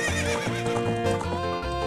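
Horses in the video game Ocarina of Time neigh and whinny over the clip-clop of hooves, loud and continuous with game music mixed underneath.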